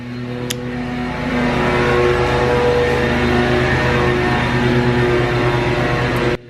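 A lawn mower running nearby, its steady droning engine hum constant and loud throughout, cutting off abruptly at the very end.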